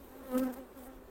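Honey bees on a frame being inspected for queen cells in a hive buzz in a short, close, steady hum that swells briefly.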